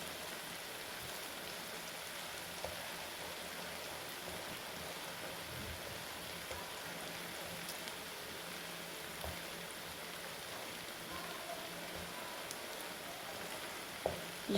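Egg fried rice being gently stirred in a hot pan gives a steady, even sizzle and soft hiss throughout, a faint scrape now and then near the end, with no talk over it.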